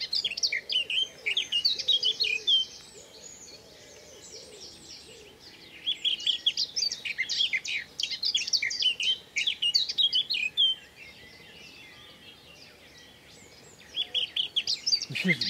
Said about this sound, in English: See if either of these birds objects to this black cap.